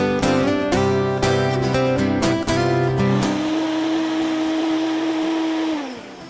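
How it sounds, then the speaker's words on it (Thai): A blender runs loud and steady, blending asparagus sauce, its motor whirring at high speed with brief pitch changes as contents churn, then winding down at the end. "ใส่ลงไปปั่นเลยฮะ"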